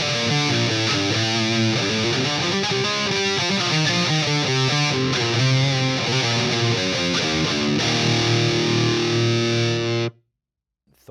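An ESP LTD EC-1001T CTM electric guitar played through its bridge pickup with heavy distortion, a loud continuous riff of chugging chords and notes for about ten seconds before cutting abruptly to silence.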